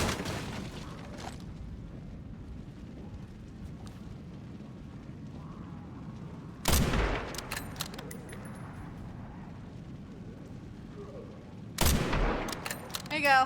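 Two sharp gunshot bursts from a video game ring out around seven and twelve seconds over a steady low background hum, each followed by brief scattered crackles.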